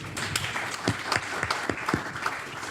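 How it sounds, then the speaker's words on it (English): A small audience at a finance team leadership session applauds, a short run of scattered, close individual claps rising and fading over a few seconds. "Get a round of applause."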